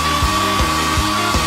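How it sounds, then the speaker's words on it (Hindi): A hair dryer blows with a loud, steady whirring hum that runs through the whole short clip, with rhythmic low pulses underneath and a brief rising tone at the end. "बेहतर होगा एक हेयर ड्रायर ले लेना।"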